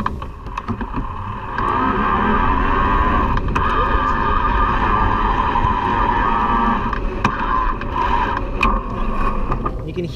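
A Kalkhoff Integrale S11 e-bike motor spins at higher pedaling RPM, giving a steady electronic whine over continuous road and wind rumble, with a few sharp clicks and knocks.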